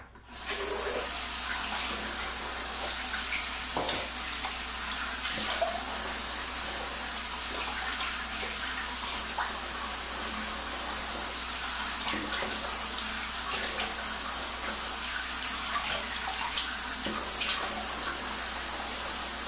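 A tap runs steadily into a sink while someone rinses off after a shave, a continuous close splashing rush of water with small shifts in the flow and no talking.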